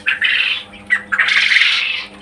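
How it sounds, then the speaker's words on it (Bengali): Caged quail on a village farm giving loud, close squawking calls, two short bursts followed by a longer harsh run of calls. "কোয়েল পাখিগুলো সুস্থ আছে, ভালো আছে ইনশাল্লাহ"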